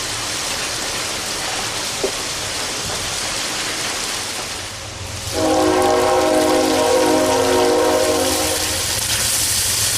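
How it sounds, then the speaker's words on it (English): A passing train gives off a steady, broad rumble. Partway through, a loud, sustained horn blast joins in and holds over the noise, heard outdoors. "Another train. There are 2 lines over there."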